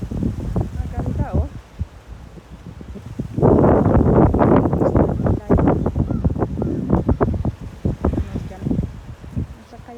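Gusty wind roars across Princess Beach on Bermuda's South Shore, strengthening midway, while people talk over it.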